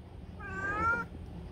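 A 14-year-old cat with cataracts and arthritis gives a single drawn-out meow, close and fairly clear, lasting under a second against a quiet indoor background.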